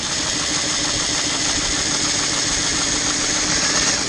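A power driver runs set screws into a Camco sewer tank vent, giving a steady, loud, close mechanical whir that holds for the whole stretch with slight pulsing and no pause or talk.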